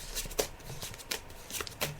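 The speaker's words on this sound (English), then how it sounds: "So I'm just shuffling the cards." Tarot cards shuffled by hand on a psychic show, giving repeated soft riffling bursts at a steady rhythm, close and fairly quiet, with no talking.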